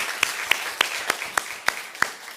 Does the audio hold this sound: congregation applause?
yes